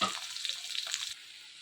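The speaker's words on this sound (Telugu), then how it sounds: "ఈ విధంగా కొంచెం ఆయిల్ పోసుకొని పచ్చిమిర్చి ఆనియన్స్ ఇందులో వేసేసుకోవాలి" Green chillies and onions sizzle in hot oil in a pan, a steady crackling hiss that starts with a brief thump and then cuts down sharply after about a second, close with no voices.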